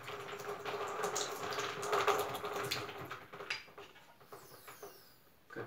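Liquid draining out of a container as air pressure pushes it out, a faint, bubbling, gurgling trickle that swells and fades over several seconds.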